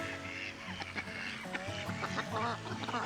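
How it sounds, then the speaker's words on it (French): Ducks calling around a small lake, with overlapping honking quacks and calls repeating steadily at close to moderate distance against a busy outdoor background. "Les canards autour."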